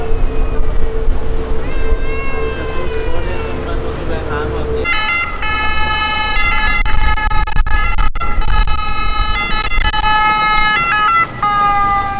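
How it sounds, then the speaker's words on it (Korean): Ambulance boat speeding along a Venice canal with its siren wailing, a loud two-tone siren that grows stronger and passes close by, mixed with water and motor noise while people talk nearby. "금방 지나가는 거 보셨어요? 앰뷸런스."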